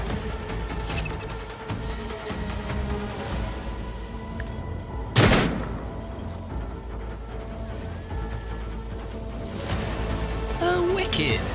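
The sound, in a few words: gunfire in the video game Warhammer 40,000 Rogue Trader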